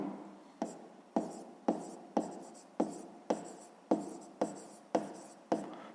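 Pen strokes write out a sixth-grade math solution on paper, about ten crisp, evenly spaced scratches, each a sharp onset fading quickly, close and fairly quiet with no talk.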